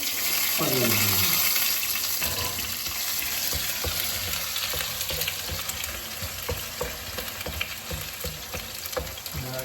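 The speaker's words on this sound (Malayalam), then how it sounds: "എണ്ണയിലിങ്ങനെ ചെറുതായിട്ട് ഫ്രൈ ആക്കി തരും" Ginger and garlic frying in oil, a loud continuous sizzle with stirring clinks and scrapes, plus a brief whistling tone near the start and faint background voices.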